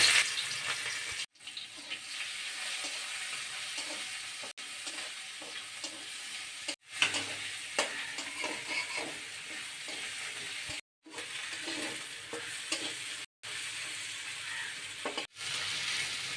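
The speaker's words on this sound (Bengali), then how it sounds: "চিংড়ি মাছগুলো দিয়ে ভেজে নেব" Prawns frying in hot mustard oil in a kadai for a jackfruit and prawn curry: a steady loud sizzle and crackle, interrupted by several brief near-silent gaps where the sound cuts out, with faint stirring.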